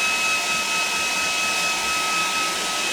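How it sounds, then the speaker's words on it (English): A hair dryer blows on freshly painted Space Marine miniature paint, a loud steady whoosh with a thin high motor whine that holds unbroken throughout. "I'm going to hairdryer it, mate."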